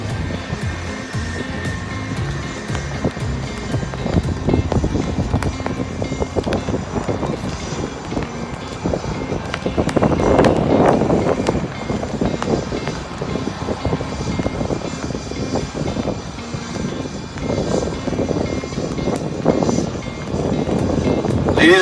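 An Indian-built HAL Light Combat Helicopter flies an air show display with a sharp rudder turn, its engine and rotors a loud continuous roar that swells and fades as it passes close by.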